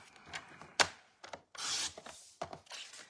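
Cardstock is trimmed by hand for a homemade greeting card, giving several short, close scraping and rasping cutting strokes with brief pauses between them and no voices.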